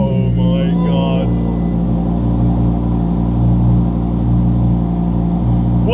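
Audi R8 V10 Performance engine revving hard from inside the cabin, a loud, sustained deep roar holding steady throughout, with people's voices briefly heard over it at the start.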